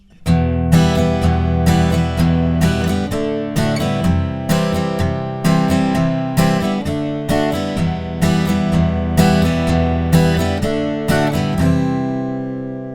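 Acoustic guitar strums the chorus chords of a song with a capo, loud and close, in a steady pattern of downstrokes and ringing chords that end on a sustained fade.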